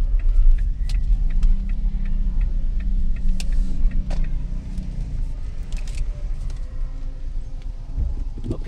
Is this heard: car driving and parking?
yes